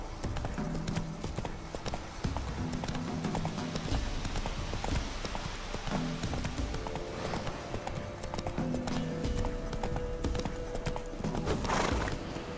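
A horse gallops steadily in The Witcher 3, with loud, continuous hoofbeats thudding over wind and game ambience and a brief rise near the end.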